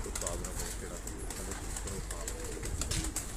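Heera Lal breed pigeons coo softly in repeated low murmuring phrases amid background chatter and bird noise.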